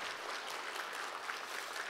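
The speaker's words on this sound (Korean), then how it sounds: "다시 한번 감사의 박수, 격려의 박수 부탁드립니다." Church congregation clapping in thanks and encouragement at a testimony night of a prayer gathering, a steady, even patter of many hands heard alone and fairly soft throughout.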